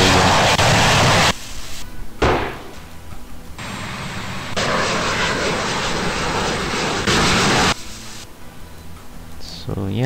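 F/A-18 Hornet jet engine in a flight simulator game: a loud, broadband roar that cuts in and out in abrupt blocks, swelling and dropping as thrust changes over ten seconds.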